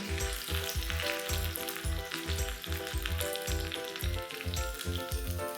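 Chopped small green chillies sizzle and crackle in hot oil during tempering, a steady close frying hiss with rhythmic stirring pulses and no talking.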